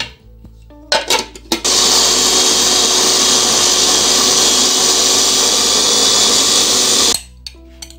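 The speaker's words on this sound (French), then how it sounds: "Vous mettez votre coriandre dans le hachoir." An electric kitchen chopper whirs loudly and steadily for several seconds as it minces coriander and garlic cloves, preceded by a few short pulses and ending abruptly.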